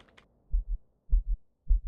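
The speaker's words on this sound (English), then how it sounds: "This is a heartbeat, so I'm going to add LFE and I'm going to add reverb to it." A deep, thumping heartbeat pulses in slow lub-dub pairs, close and booming, against otherwise near silence.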